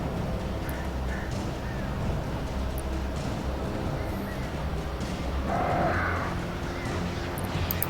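Crows caw a few times over a constant low rumble of game ambience in Alan Wake, the calls mid-distance and partly buried in the background.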